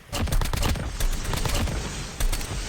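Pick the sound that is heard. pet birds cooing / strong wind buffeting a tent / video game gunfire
video game gunfire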